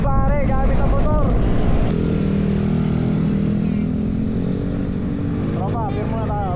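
Motorcycle ride toward a mountain, the engine droning steadily throughout, loud and close, with a rider's voice talking and cheering over it at the start and near the end.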